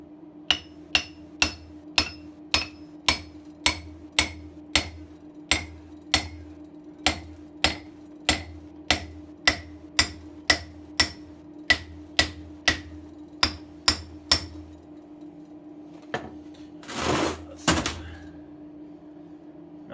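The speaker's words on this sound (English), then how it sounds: "I'm going to have to give it a few whacks just to get a sense of whether it's really on there or not" A hammer strikes a welded scrap-metal anvil horn in a steady, evenly spaced series of sharp, ringing metallic whacks, close and loud, followed by a brief scraping rustle and a pause.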